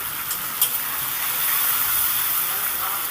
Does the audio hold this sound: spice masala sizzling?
yes